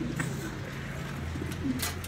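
Soft pigeon cooing, low and intermittent, with faint rustling and ambient noise around it.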